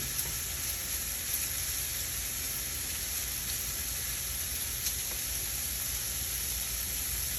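Food sizzling steadily in a pan right after a stir, with a dense, even frying hiss that stays loud and unbroken throughout.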